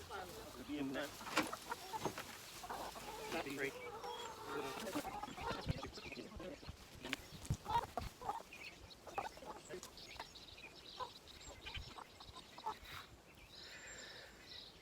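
Chickens cluck and murmur steadily close by, with scattered soft calls from the flock while a person talks at times over them.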